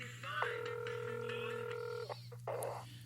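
Telephone keypad being dialed to phone a friend on a quiz-style show, a sustained dial tone followed by a few short touch-tone beeps, clear and close over a low background hum.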